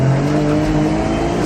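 A Nissan Skyline with a high clutch launches hard, its engine revving loud and close in a sustained droning roar with no speech.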